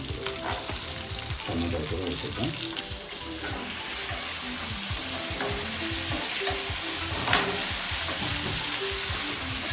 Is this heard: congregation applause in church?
no